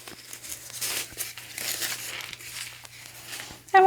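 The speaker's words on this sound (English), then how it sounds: "I'm just going to take it to just a smidge beside that center fold and fold that down" A sheet of paper is folded down beside a center fold, giving soft crinkling and creasing rustles in several short bursts up close.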